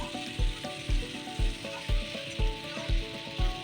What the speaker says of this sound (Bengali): আলুটাকে কেটে নিয়ে আমরা ফ্রাই করে নিচ্ছি